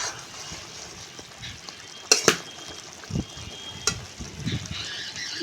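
A spoon stirs stuffed pointed gourd (potol) curry with egg in a pan, giving a few sharp metallic clinks and soft scraping over a faint simmer.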